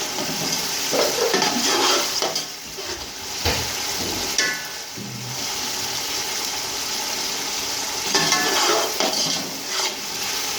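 Red tomatoes tipped into ginger paste frying in a pan for chicken pulao, giving a loud, steady sizzle with bursts of spattering and a few clinks of a spoon stirring, close up.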